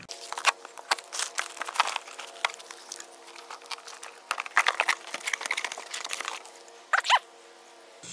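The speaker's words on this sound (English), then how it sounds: "I'm gonna cut this open and see what these bad boys look like" Adjustable coilover springs for a Honda Integra, Strut Tech brand, being cut out of their packaging: close, irregular crinkling, tearing and scraping of plastic and cardboard in bursts, with a few sharper rips near the end.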